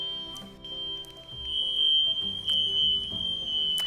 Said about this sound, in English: the fire alarm is going off again, hang on.